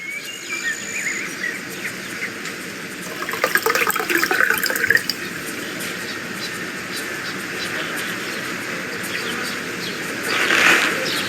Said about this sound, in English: I'll fill it with water